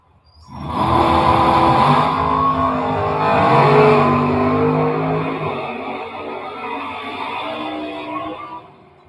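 A drag race car launches and accelerates down a quarter-mile strip at a Mid Atlantic Stock/Super Stock event, its engine roaring loudly and rising in pitch for several seconds before fading into the distance.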